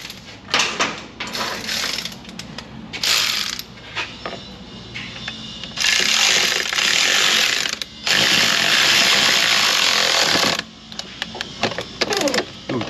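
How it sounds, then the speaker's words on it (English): Torx bit slipping on a fastener while ratcheting on a Cadillac Northstar engine, heard as close, loud bursts of rapid mechanical clicking and grinding, several long runs separated by shorter metallic rattles. "Torx bit slippage, not cool."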